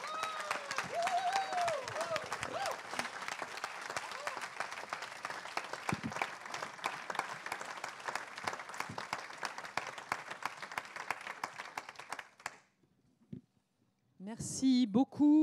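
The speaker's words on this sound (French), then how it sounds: "je voudrais un tonnerre d'applaudissements" A thunderous round of audience applause at a political party's national council meeting, dense clapping from a large crowd lasting over twelve seconds before dying away, followed by brief speech.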